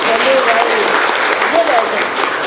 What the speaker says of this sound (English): Incidentally, give him an applause.